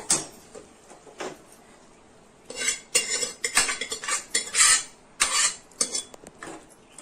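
A spoon scrapes and clanks against a pan in irregular bursts of stirring manathakkali greens kadaiyal with the stove off, close and fairly loud, after a few quiet seconds.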